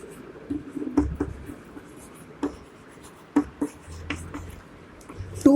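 Pen strokes and taps scratch across paper while a maths solution is written out, coming in short irregular bursts with quiet pauses between them.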